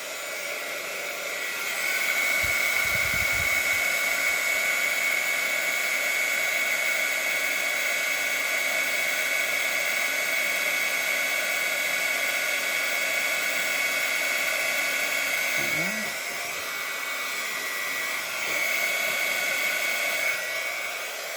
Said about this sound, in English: Let me get my heating tool,